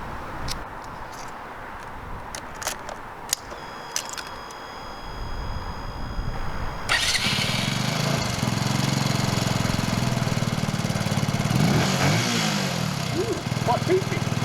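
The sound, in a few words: Benelli motorcycle engine starting up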